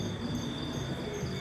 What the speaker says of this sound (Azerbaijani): cırcırama səslərini eşidirsiniz